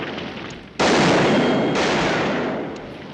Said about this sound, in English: On screen, the gunfight at the OK Corral lasts just a few minutes.